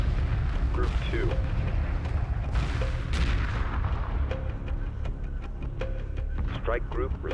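Weapons fire during a space battle in Homeworld Remastered, with rumbling booms and scattered sharp blasts over a constant low drone, while radio-style voices talk over the battle.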